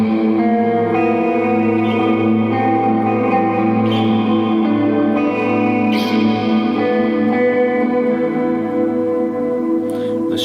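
A Chapman ML3 Pro Triton electric guitar plays sustained, ringing chords through chorus, delay and shimmer reverb, forming a loud, dense wash with occasional bright note attacks and long echoing tails, no talking.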